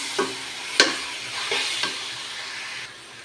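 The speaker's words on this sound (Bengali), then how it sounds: "কন্টিনিউ এই কারণে নাড়াচাড়া করে নিতে হয় যাতে তলাতে না ধরে" A sticky chalta (elephant apple) pickle is stirred in a pan over the stove, with a low continuous sizzle and a few sharp scrapes and knocks of the spoon against the pan, close by.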